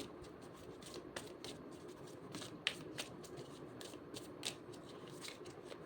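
Tarot cards being shuffled close by, a soft run of riffling flicks and taps at an irregular rhythm, alone and quiet.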